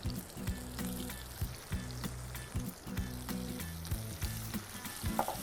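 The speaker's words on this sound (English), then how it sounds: "You know you got the oil hot enough when you hear that sizzle." Fish fillets sizzle steadily in hot oil in a pan, a continuous crackling fry with occasional bubbling pops, close up and with no talking.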